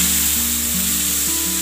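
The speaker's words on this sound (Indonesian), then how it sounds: "setelah minyaknya panas, kita masukkan bumbu yang sudah di blender tadi" Spice paste blended for shrimp gulai hits hot oil in a pan and sizzles loudly and continuously for a brief moment, close by and with no talking over it.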